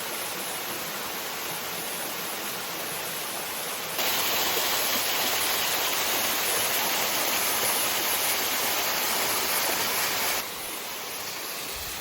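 Small creek cascade in Bindarri National Park, a steady hiss of flowing, splashing water close by that swells louder for several seconds in the middle, with no talk.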